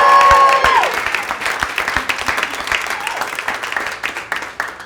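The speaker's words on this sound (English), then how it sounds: "Let's give a round of applause for" A comedy-special audience breaks into applause for the comedian's parents, starting with a loud burst of clapping that settles into a steady, slightly thinner patter, with some scattered cheering.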